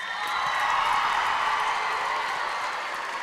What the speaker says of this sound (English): So we want you guys at this point to give yourselves a round of applause.